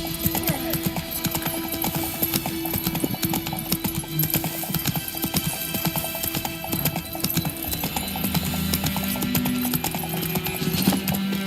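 A horse in The Witcher 3 clip-clops along in a steady, continuous hoof rhythm, with faint ambient game sound underneath.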